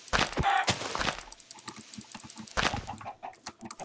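Chickens cluck and squawk in the Minecraft video game, with short bursts near the start and again after a gap. Quieter game sounds fill the space between them, and no one speaks.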